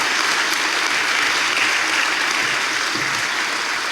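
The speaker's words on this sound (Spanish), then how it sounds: "Un aplauso, por favor" A parish audience gives a round of dense, steady applause at a talk about the Shroud of Turin, sustained and even throughout with no voices over it.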